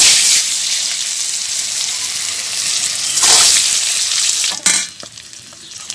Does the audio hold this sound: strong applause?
no